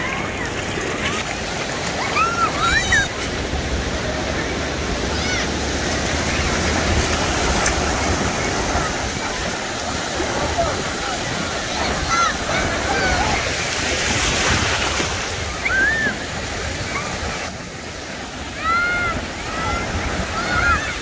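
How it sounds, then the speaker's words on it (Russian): Strong Atlantic surf breaks on a crowded beach at Isle of Palms near Charleston with a constant, loud wash of waves and wind, and faint distant voices and chirps over it. "Вау, какие сильные волны"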